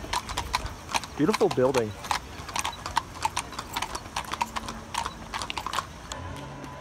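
Horses' hooves clip-clop on pavement in Seville, a quick uneven run of sharp knocks throughout, with a brief neigh early on and a person speaking over it.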